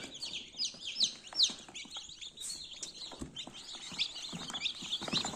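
Newly hatched chicks from a home incubator peeping, many high, rapid, overlapping chirps close by, continuous and busy throughout with soft rustling beneath.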